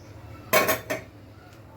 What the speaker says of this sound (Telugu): ఇలా కలుపుకుంటూ ఉంటే గడ్డలు కట్టదండి.